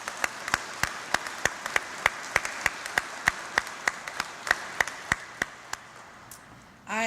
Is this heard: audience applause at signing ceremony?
yes